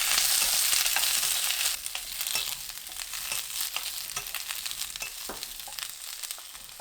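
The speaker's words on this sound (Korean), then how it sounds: "소세지 넣어 1분 볶습니다" Sausage stir-fried with garlic in a pan gives a steady, close sizzle with irregular spatula scrapes and clicks, louder for the first couple of seconds, then a slightly softer continuous frying hiss.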